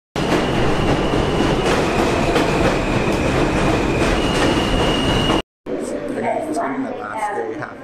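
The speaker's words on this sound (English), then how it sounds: "The next Manhattan-bound L train." A New York City L subway train rumbles and clatters loudly through a station with a steady metallic roar and a high whine, then cuts off briefly before quieter platform noise and a voice resume.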